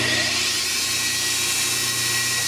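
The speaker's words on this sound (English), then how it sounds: "We got a belt sander here." A belt sander running steadily in a workshop, a continuous high-pitched whine with a droning motor hum, close and loud, alone without talk.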